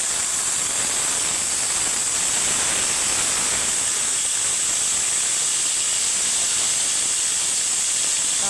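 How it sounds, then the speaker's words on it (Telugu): Tamarind pulp sizzles loudly in hot oil in a pan, a steady, dense hiss that holds at the same level throughout, close and alone with no talking. "ఇప్పుడు ఇదే ప్యాన్లోనికి మరి కాస్త ఆయిల్ని వేసుకొని ముందుగా గుజ్జు తీసి పెట్టుకున్న"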